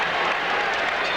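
A Houston Rockets home crowd in a basketball playoff game against the Dallas Mavericks roars and applauds in a dense, steady wash of cheering that fills the whole moment without letup.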